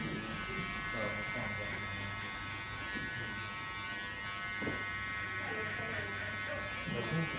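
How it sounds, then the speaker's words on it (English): Steady buzzing hum of an electric hair clipper cutting a grade 1 fade, running continuously close by while someone talks over it. "The clipper's naturally going to turn itself"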